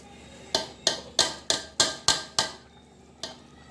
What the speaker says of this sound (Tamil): பொரிக்க ஆரம்பிச்சு இந்த ரைஸை இதில் போட்டுருணும்.